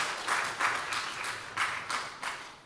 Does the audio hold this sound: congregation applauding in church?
yes